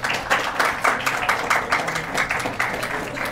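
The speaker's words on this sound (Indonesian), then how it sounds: "Tepuk tangan untuk kita semua." A crowd gives a short burst of rhythmic clapping, loud and close, with pulsing claps through the whole stretch and no speech.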